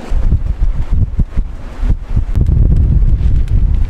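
Strong gusty wind buffets the microphone around an anchored yacht, a loud rumbling roar with uneven thumping surges throughout.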